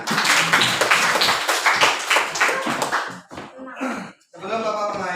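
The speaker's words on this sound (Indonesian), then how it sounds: "Oke, tepuk tangan semuanya." A university class claps together in a classroom, a dense, loud burst of many hands for about three seconds that breaks off into a few scattered claps and then voices talking.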